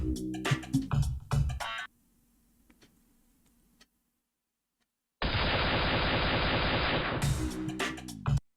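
Rapid bursts of gunfire from the shooting game Moorhuhn Jagd rattle loudly, broken by a quiet gap, then a long dense stretch of continuous shooting and a few final shots.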